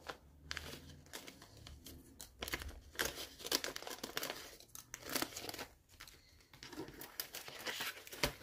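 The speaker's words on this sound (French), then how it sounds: "Allez, je sors des petites enveloppes." Small paper envelopes for scrapbooking are handled and pulled out, giving faint, close crinkling and rustling in irregular bursts with brief quiet gaps.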